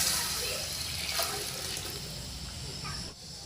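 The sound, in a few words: pouring sprout-boiling water into a pan for misal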